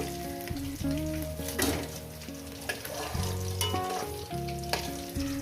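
Rohu fish pieces frying in hot oil for a spicy curry with potatoes, giving a steady sizzle with stirring scrapes, close and continuous, over quiet background music and no speech.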